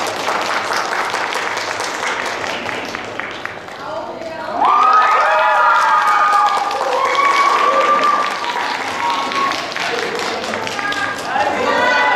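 An audience at a 2014 fan meeting event breaks into loud applause to welcome the host, a dense wash of clapping swelling midway, with voices and cheers mixed in.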